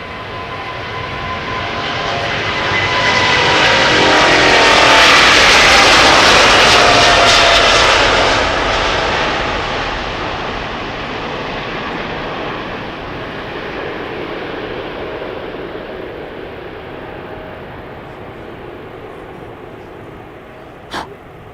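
A KLM Boeing 777-200 passes at Amsterdam Schiphol Airport, its jet engines building to a loud, close roar, then fading slowly into a long, distant rumble.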